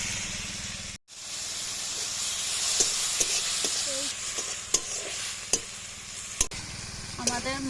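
Spice paste of ground puffed rice, cumin and ginger frying in hot oil with fried onions for a torukola dish, a steady close sizzle and hiss broken by sharp scrapes and clinks of a spoon stirring the pan.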